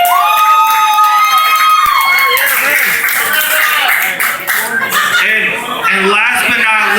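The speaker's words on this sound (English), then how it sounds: "So let's give her a round of applause real quick." A live crowd at a 2019 hip-hop show claps and cheers loudly and steadily, with shouts rising over music that rings through the room.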